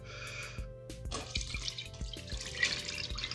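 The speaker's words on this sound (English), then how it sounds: "we'll just sort of pour it through the strainer." Beef short rib adobo liquid is poured through a strainer, giving a close, wet trickle with a run of irregular drips and small splashes that thicken into a steady pour.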